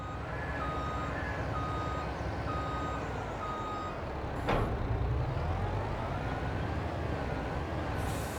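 A truck in the video game Farming Simulator 22 idles loudly with a steady engine rumble, repeated reversing beeps over the first half, then a short air-brake hiss.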